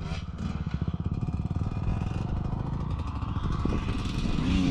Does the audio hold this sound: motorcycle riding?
yes